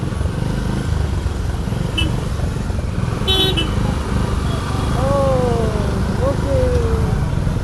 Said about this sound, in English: there's so much traffic